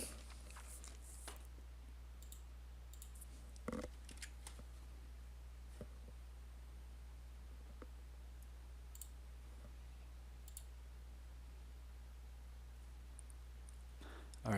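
A few sparse, faint computer mouse clicks sound while stepping through a setup wizard for Active Directory groups and organizational units, isolated clicks over a low steady hum, with no talking.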